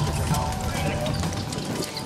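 Horses' hooves clip-clop at a carriage driving marathon obstacle in Bugac, Hungary, a steady near rhythm of hoofbeats under broad outdoor noise and distant voices.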